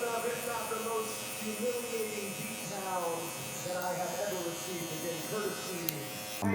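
A Gamma Cyborg hair clipper buzzes steadily close by during a haircut, its tone wavering as it moves through hair, with a person talking over it throughout.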